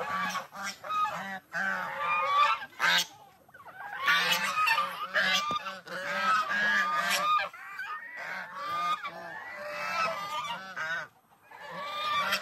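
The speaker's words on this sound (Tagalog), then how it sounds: "ang ating mga pabo, gansa." Geese honk repeatedly in bursts, a noisy flock calling close by with brief pauses between volleys.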